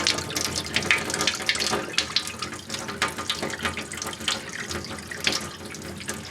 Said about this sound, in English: Water's going down the drain.